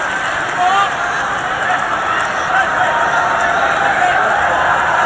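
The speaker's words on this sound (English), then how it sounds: "Listen to the crowd. They're into it." A boxing arena crowd roars and cheers steadily after the bell ending round two, a broad, distant wash of noise with voices talking over it.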